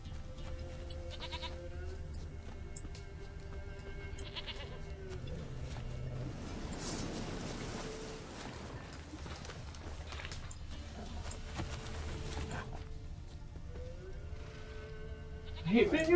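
Goats bleat in the game The Witcher 3, several faint calls scattered over a long stretch of quiet ambient game sound, with a brief louder burst at the end.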